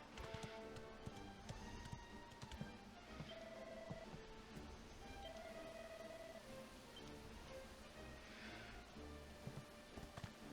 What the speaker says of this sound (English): When your horse is at full gallop, you can knock enemies out of the way